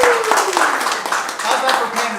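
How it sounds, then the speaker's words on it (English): Brisk, close clapping from an audience at an improv theatre show, a lively burst of many hands with a voice speaking over it. "give yourselves a big round of applause"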